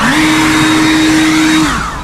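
A snow blower clears thick snow in a wintry Edmonton, Alberta setting, its motor whining loud and close at a steady pitch before dropping away as the load eases.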